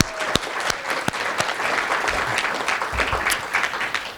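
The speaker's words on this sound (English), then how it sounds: "So let's give them a round of applause." Audience applause at an evening healthcare story slam event, a dense, steady wash of many hands clapping in a hall, with a few louder nearby claps standing out, sustained throughout.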